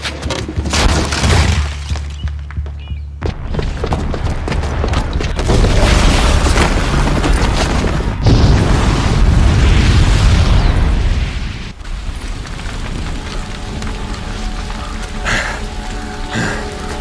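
A bomb detonates in Horizon Zero Dawn, a loud sustained explosive roar with rumbling booms and crackling debris for several seconds before fading into a lower, settling rumble.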